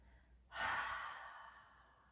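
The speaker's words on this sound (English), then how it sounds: "Open the mouth, exhale, release." One soft, breathy exhale through an open mouth during a yoga breathing exercise, close and quiet, swelling quickly and then tapering off over about a second and a half.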